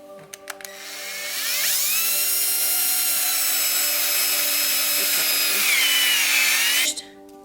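A power drill driving square-head pocket screws into a wooden frame shelf, a sustained high whine lasting about five seconds after a few short starting bursts, loud and steady, then stopping abruptly.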